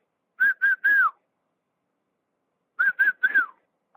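A man whistles in imitation of a reported Bigfoot whistle: two loud, clear bursts of three short rising-and-falling notes each, separated by a long pause.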